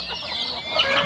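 A broiler chicken on a farm clucking close by, a short burst of soft, throaty calls lasting about a second.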